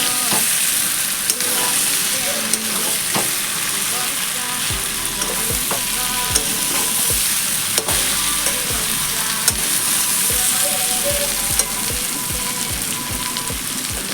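Potatoes are stirred into jackfruit and shrimp curry frying in a pan, a steady loud sizzle overlaid with repeated scraping and clacking strokes of a spatula against the metal, with no talking.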